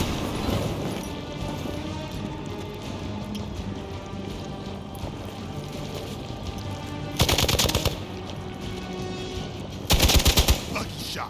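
Video game gunfire in Midnight Suns during a fight with Hydra forces: a steady bed of crackling battle noise broken by two loud rapid machine-gun bursts near the end, brief game voices mixed in.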